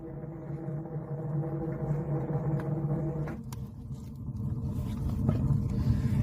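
A fire roaring inside a homemade wood stove built from an LPG gas cylinder, a steady low rumbling drone that holds close and loud, growing slightly fuller and rougher toward the end.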